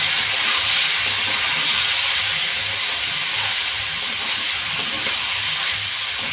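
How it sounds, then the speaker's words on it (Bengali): Fish frying with potatoes, onions, ginger paste and green chillies in spices, a loud, continuous hiss of sizzling oil that stays steady throughout with no talk. "সব মশলাগুলো যাতে কাঁচা গন্ধ না থাকে সেইভাবে একটু ভালো করে আমি কষে নেব"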